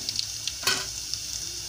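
Onions fry in tempering oil with a steady close sizzle, broken by a brief stirring scrape, and no one speaks.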